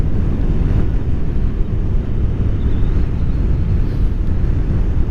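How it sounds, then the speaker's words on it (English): Strong wind buffeting the microphone outdoors beside a Honda NC750XA motorcycle on a bright afternoon, a loud, continuous low-frequency roar and rumble with no pauses or voices. "except for that wind"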